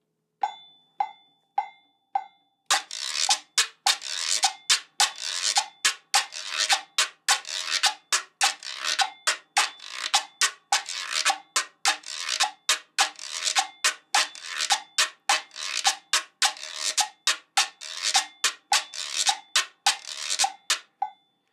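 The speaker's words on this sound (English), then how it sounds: "it starts down quick, and then it kind of extends with this slow drag up" Scraper instrument such as a guiro, guira or reco-reco is played in a steady repeating pattern, each quick down stroke followed by a long slow rasping drag, close and clear with no talking.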